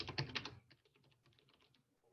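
A password being typed on a computer keyboard: a quick burst of sharp, close key clicks followed by lighter, quieter taps trailing off, with no talk.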